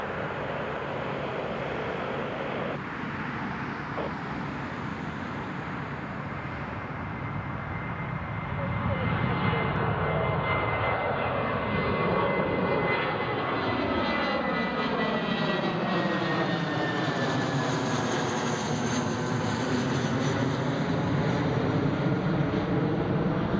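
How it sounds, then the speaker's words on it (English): A British Airways airliner on its takeoff roll at Newcastle International Airport gives a loud, continuous roar of jet engines that builds and rises in pitch over about twenty seconds, with an open outdoor rumble underneath. "British Airways is rolling, and the Emirates"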